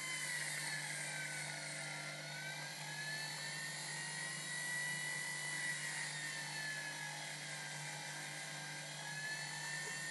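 A rotary tool spinning radial bristle wheels against a domed metal locket to give a satin finish, making a steady high whine with a faintly wavering pitch that runs continuously and close throughout.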